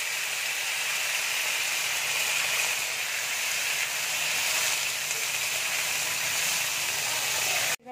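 Potatoes frying in hot oil in a pan for an eggplant-and-potato curry give a steady, loud, dense sizzle that holds evenly throughout and cuts off abruptly at the very end, with no voices.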